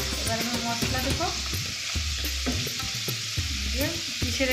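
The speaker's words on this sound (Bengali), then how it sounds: "এবার আমি মশলা দেবো।" Long-cut potato strips fry in a pan for an eggplant curry, a constant close sizzle broken by repeated scraping stirs of a spatula, with a voice speaking faintly underneath.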